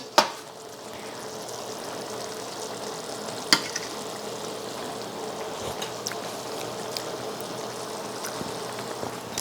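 Meat sauce simmering in a pan gives a soft, continuous bubbling sizzle with a few small pops and clicks, fairly quiet and steady, and no voices.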